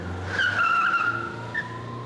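A Ford police car on a racetrack gives a sustained tire squeal as it skids, with a steady engine hum beneath and a short second screech afterward.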